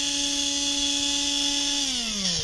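A stock Tamiya 540 electric RC motor spins alone on a 7.4V LiPo pack, a steady high whine with strong upper harmonics that holds evenly, then drops in pitch near the end as it starts to slow.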